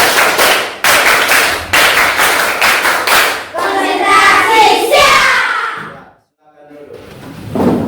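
A classroom group performs a concentration clapping pattern: loud, rhythmic bursts of claps in repeated sets, then a busier stretch of claps mixed with voices before a brief pause and a final clap.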